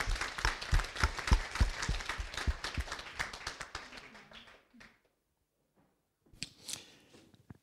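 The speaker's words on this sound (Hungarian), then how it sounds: "Gratulálok, tapsoljuk meg." An audience applauds an award recipient at a Hungarian team-building recognition event, brisk dense clapping that fades out into near silence, followed by a brief scattered burst of claps.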